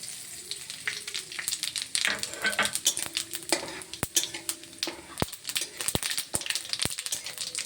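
Bay leaf and whole cumin frying in hot oil for a tempering, a steady close sizzle broken by sharp spoon-against-pan clinks and stirring scrapes.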